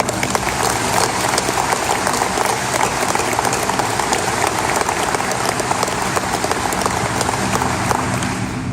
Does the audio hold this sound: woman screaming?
no